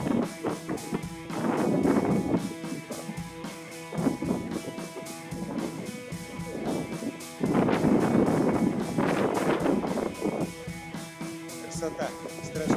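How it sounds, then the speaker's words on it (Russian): Strong wind gusting along the ocean shore of the Tenerife coast, a steady broadband roar rising and falling in surges, with people talking over it throughout. "Сильный ветер."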